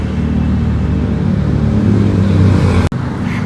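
A 2007 Toyota Avanza 1.5 E with its 1.5-litre engine idles under an open hood, a loud, close, steady rumble that continues almost to the end before cutting off abruptly.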